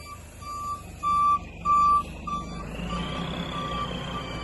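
One of James Haddington's lorries, a V8-engined truck hauling tanks, sounds a loud repeating reversing beep in regular pulses over its steady engine rumble, with a rising whine near the end.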